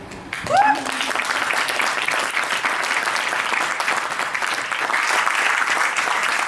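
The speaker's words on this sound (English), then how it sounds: "Kanika's used to the applause" Steady audience applause fills a women's entrepreneurship and leadership session for Kanika, a brief voice rising at the start before dense, even clapping carries on throughout.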